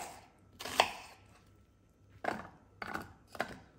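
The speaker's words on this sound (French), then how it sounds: "je viens m'aider d'un petit hachoir dans lequel je viens mettre les morceaux d'oignon" Onion pieces chopped in a small hand food chopper: four quiet, separate crunchy bursts of chopping with short pauses between, close by and without talk.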